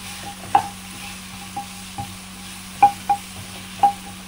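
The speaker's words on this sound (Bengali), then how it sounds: "এটিকে ভালো করে আমগুলোকে তেলে ফ্রাই করে নেব।" Mango pieces for pickle frying in oil in a pan: a steady low sizzle with a handful of sharp stirring scrapes and clinks spaced irregularly, close and moderately quiet, no voices.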